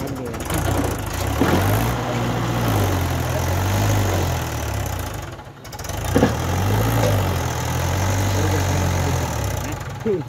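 A Mahindra 575 DI tractor idles close by with a steady low diesel chug and a slight knock, running continuously for the whole stretch. A brief gap comes midway, and voices talk over the engine throughout.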